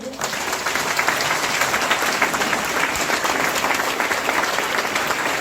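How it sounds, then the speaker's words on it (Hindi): A large crowd of attendees at a DXN millionaire event in Deoria gives sustained, dense applause, loud and unbroken for the whole stretch after a sudden start, with faint crowd noise mixed in. "आप लोग जबरदस्त तालियों के साथ में, पूरा जोश के साथ में हम लोग सर का वेलकम करेंगे।"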